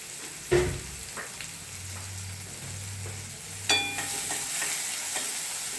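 Chopped onion for a spicy cowpea usal fries in a pan until lightly browned, with a soft continuous sizzle, a low hum beneath and a couple of louder knocks as it is stirred.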